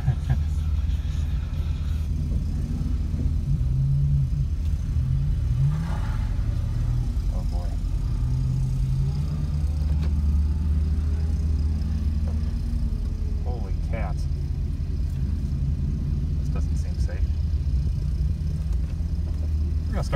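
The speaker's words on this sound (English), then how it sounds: "Gonna go around the autocross track." Pontiac G8 car on an autocross track, a steady low engine rumble running throughout at moderate loudness, with occasional rising revs and people talking over it inside the car.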